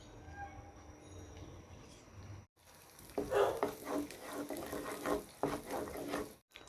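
An egg with salt being scrambled in a pan for spicy pasta, soft scraping and stirring strokes with a faint sizzle, quiet and close, pausing briefly between bursts of stirring.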